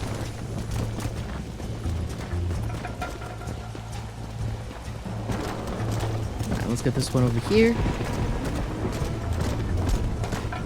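Horse hooves clip-clop steadily in Red Dead Redemption (2010) as a rider herds animals across open ground, with a voice talking over the rhythmic footfalls.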